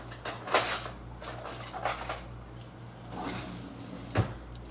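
An old hand peeler scraping vegetables in a home kitchen, a few quiet, soft rasping strokes spaced about a second apart over a low steady hum.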